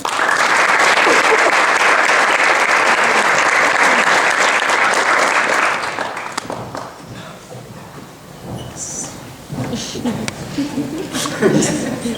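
Applause from the audience at a National Society of Leadership and Success induction ceremony at Thiel College, loud and dense for about six seconds, then thinning out into scattered claps, murmurs and a voice speaking.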